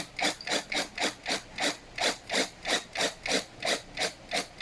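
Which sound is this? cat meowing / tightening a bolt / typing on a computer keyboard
tightening a bolt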